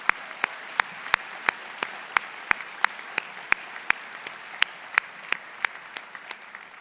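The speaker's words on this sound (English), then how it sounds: "Let's give them all a warm round of applause." A small group applauds at a county State of the County address, with a rapid, fairly steady rhythm of individual claps over a soft wash of clapping.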